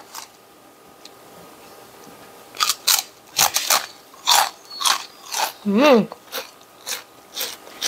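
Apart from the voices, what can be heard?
eating krupuk gendar rice crackers, crunching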